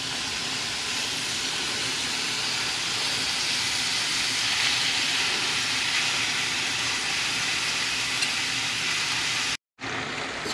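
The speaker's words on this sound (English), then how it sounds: "So to this pan, I'm gonna add my ground beef." Ground beef for lasagna sizzles and hisses steadily in a hot pan, a constant broadband frying noise with a brief cutoff near the end.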